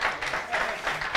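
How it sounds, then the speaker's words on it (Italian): Brief applause from an evangelical church gathering in Puglia for a recently married man, with a dense run of claps that sounds moderately close. "quindi gli facciamo un applauso, no?"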